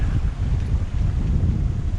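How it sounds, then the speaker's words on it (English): Strong wind buffets the microphone on a sailboat in an acceleration zone between Caribbean islands off Martinique, a continuous loud roar with heavy low rumble and choppy gusts throughout, no voices. "Pretty damn windy through here."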